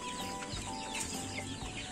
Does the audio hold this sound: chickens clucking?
yes